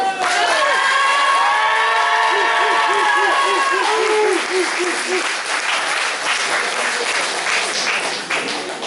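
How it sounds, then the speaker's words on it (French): A cosplay contest crowd at a convention cheers and whoops loudly, with shouted voices and high yells over the opening seconds, then settles into sustained, dense applause. "Allez, on les applaudit encore"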